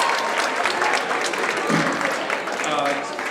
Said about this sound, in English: let's give them another big round of applause, please